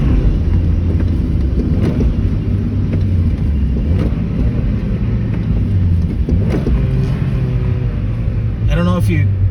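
A Mazda MX-5 mark 2 engine rumbling from inside the cabin as revs blip and fall during heel-toe downshifts, steady and moderately loud under road noise, with someone talking over it.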